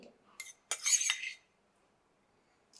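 A spoon scoops salt in a home kitchen while making kalappa rice batter. A few quick metallic scrapes and clinks sound close up, then quiet.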